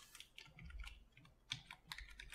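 Typing on a computer keyboard produces a quick, uneven run of close, quiet key clicks with short pauses between bursts, and no voice is present.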